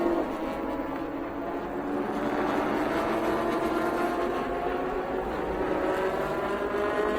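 GT3 cars of the Thailand Supercar series roar off at a race start, a dense distant engine drone that holds at a steady level, with no voices.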